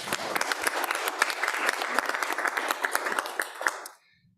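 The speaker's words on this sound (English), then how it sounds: "Round of applause." A crowd in a meeting room applauds a nurse honored as Nurse of the Year, dense steady clapping that swells, holds for several seconds, then stops abruptly.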